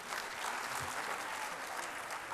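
An audience at a school anniversary event applauds a guest, steady loud clapping from a crowd filling the whole moment.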